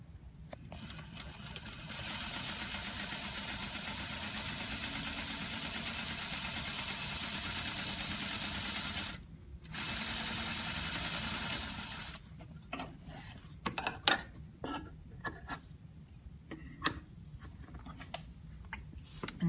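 A sewing machine stitches a quarter-inch seam for a French seam, its steady mechanical whir running in two long passes with a short break, then giving way to scattered clicks and handling noises.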